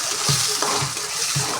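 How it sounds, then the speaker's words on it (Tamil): Ginger and garlic sautéing in a pan for fish curry, a steady close sizzle with a few soft stirring scrapes spaced across it. "இஞ்சி பூண்டு வாசனை போகிற அளவுக்கு நல்லா வதக்கணும்மா."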